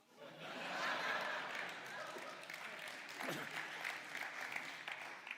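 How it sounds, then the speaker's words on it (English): Audience applause at a talk on God, faith and science, a sustained burst of clapping from a crowd, mixed with some chuckles, holding steady for several seconds. "you shouldn't clap"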